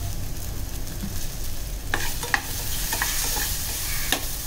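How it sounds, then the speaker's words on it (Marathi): Grated coconut and garam masala sauté in a pan with browned onion, giving a continuous close sizzle broken by several sharp spatula scrapes and taps. "कांदा लाल झाला की आपला गरम मसाले आणि नंतर आपण खोबरं त्याच्यामध्ये परतून घेणार आहे."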